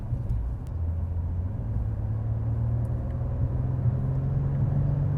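A Mercedes-AMG E53 engine restarts and settles into a low, steady idle rumble, heard close from inside the cabin with no talk over it.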